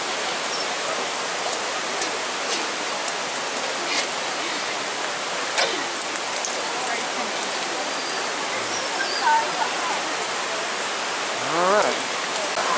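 Mingo Falls, a waterfall near Cherokee, North Carolina, on an icy winter hike: a steady, full broadband rush of falling water fills the whole stretch, with faint brief voices and small knocks over the top.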